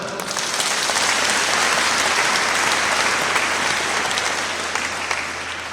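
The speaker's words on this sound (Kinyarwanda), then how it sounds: "Tuyikomera amashyi." Sustained applause from a congregation at a church Bible institute graduation ceremony for evangelists, a dense, even roll of clapping that swells quickly and fades slightly toward the end.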